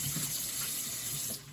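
Tap water runs steadily into a sink while a wooden cutting board is washed, a constant close hiss that eases slightly near the end.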